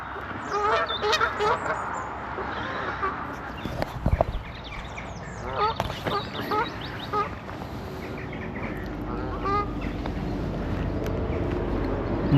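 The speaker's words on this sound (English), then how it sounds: "the geese are getting more and more and more" Geese honk repeatedly, a noisy overlapping flock calling near and far in an outdoor setting by water, with bursts of rough cackling spread across the whole stretch.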